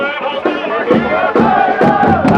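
Crowd of Thai and foreign fans cheering for the Thai national team, loud massed chanting voices rising and falling in rhythmic bursts, close and continuous.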